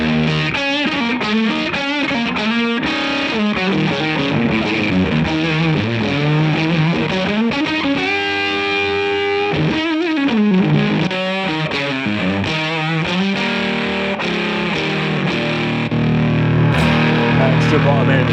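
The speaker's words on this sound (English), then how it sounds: "What the fuzz actually sounds like" Electric guitar through a fuzz pedal, thick and saturated, playing continuously and loudly with buzzy, distorted sustain throughout.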